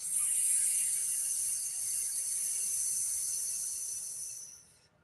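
A voice imitates a snake with a long, steady hiss of exhaled breath, close and sustained for several seconds before trailing off.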